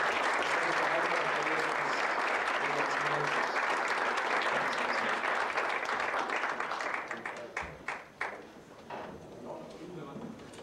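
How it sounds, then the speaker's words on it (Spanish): An audience applauds at the close of a public session on an old neighborhood and the Mirador colony, a dense, sustained wash of clapping that thins into scattered claps near the end, fairly faint. "Muchísimas gracias, pido para todos un aplauso"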